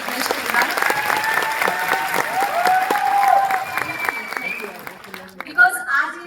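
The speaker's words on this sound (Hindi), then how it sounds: "सबसे पहले तो मैं एक जोरदार तालियां चाहती हूँ मेरे हस्बैंड के लिए" An audience at a Women Empowerment event in Surat claps loudly and steadily, the applause thinning out near the end, while someone speaks over it.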